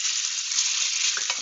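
Schweitzel, an Austrian pasta or dumpling, sizzles loudly and steadily in canola oil in a pan, a dense, constant hiss with a few brief pops near the end.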